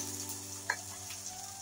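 Fish escabeche frying in a pan gives a steady soft sizzle, with one brief clink of a spoon stirring partway through; low and continuous, no talk.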